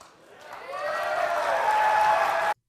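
A studio audience at a Nintendo E3 press presentation breaks into applause, building from a few claps to steady, dense clapping that fills the room before cutting off abruptly.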